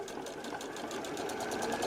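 A sewing machine back-stitches over fabric scraps for a scrunchie, a fast, even mechanical chatter of needle strokes running continuously at close range.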